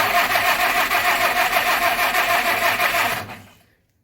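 Jeep engine cranking and catching, a loud close rhythmic chugging that holds steady for about three seconds, then quickly fades to silence as it dies.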